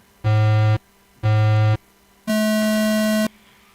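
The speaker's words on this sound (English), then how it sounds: "3 beeps." Three electronic beeps start an off-road race: two short, lower-pitched tones followed by a longer, higher tone, loud and clean.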